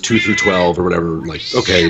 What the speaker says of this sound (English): That's my cat. She'll only get louder.